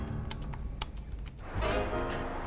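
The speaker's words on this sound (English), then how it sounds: "you can almost hear the clatter of A-grade property manager Tracy Lee's keyboard" A property manager types on a computer keyboard, a burst of distinct, fairly close key clicks in an uneven rhythm that gives way to a louder, busier background wash.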